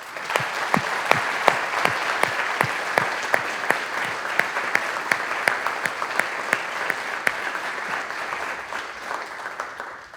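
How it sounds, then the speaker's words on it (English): An audience gives sustained applause to researchers at an evening talk on the border humanitarian crisis, many hands clapping steadily throughout with sharp individual claps standing out and no talk over it. "So let's give them a big round of applause."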